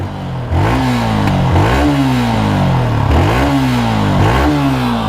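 A Yamaha R15 V3 motorcycle, freshly serviced with a Liqui Moly performance oil pack, revs repeatedly in neutral, its engine rising and falling in four or five loud close-up throttle blips over a steady idle.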